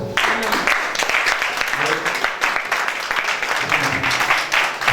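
A church congregation applauds in sustained, dense clapping that fills the room continuously, with voices calling out underneath throughout.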